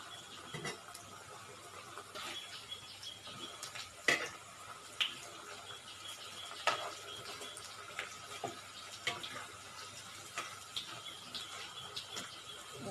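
A mushroom-cabbage roadside kaalan snack is turned over in a frying pan: a faint, low sizzle runs throughout, broken by scattered sharp spatula scrapes and taps against the metal.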